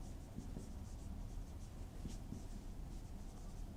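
Writing on a board during a physics lecture on heat conduction, a steady scratchy stroke texture running through the whole stretch with a few sharper taps, close and moderately loud over a constant room hiss, with no talking.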